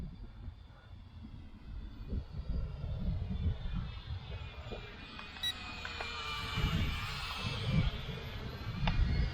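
A small, inexpensive P7 Pro Max quadcopter drone flies outdoors in a light breeze, its high motor whine rising and falling as it manoeuvres, with faint wind and background noise.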